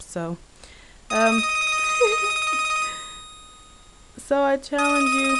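A mobile phone ringtone rings close by with a bright, sustained tonal ring lasting a couple of seconds and then fading, while a person talks before and after it.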